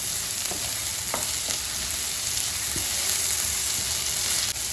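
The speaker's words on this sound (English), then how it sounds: "Now let's add in the capsicum and fry along with the onion." Capsicum frying with onions in a pan for egg masala, an even close sizzle throughout, broken by a few soft clicks and scrapes of stirring.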